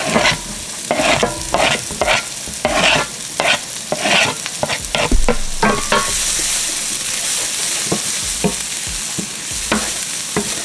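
Shallots, garlic and basil fry in a pan with a loud, close sizzle, broken by frequent scraping strokes of a spoon; the hiss swells and holds steady in the second half.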